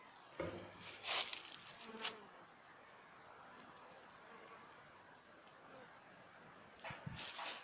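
Honeybees buzz around a hive on an early spring cleansing flight, several passing close to the microphone in brief loud bursts before fading, while a faint steady hum of the flying colony stays in the background.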